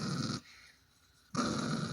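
A Chihuahua growls low and close in two rumbling bursts separated by a short quiet breath, with no talking.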